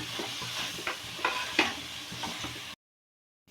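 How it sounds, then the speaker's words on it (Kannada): Sambar powder stirred and fried in hot oil for drumstick sambar, a soft steady sizzle with scraping strokes of a spoon, close by, ending abruptly in silence; no talking. "ಎಣ್ಣೆಯಲ್ಲಿ ನೋಡಿ ನೀಟಾಗಿ ಈ ಥರ ಮಿಕ್ಸ್ ಮಾಡ್ಕೊಳ್ಳೋಣ"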